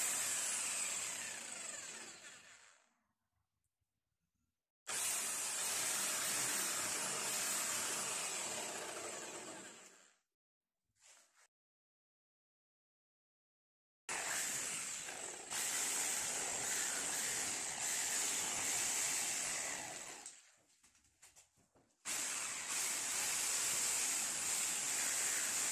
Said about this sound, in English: Little bit of 180 grit sandpaper there just to smooth the edges off.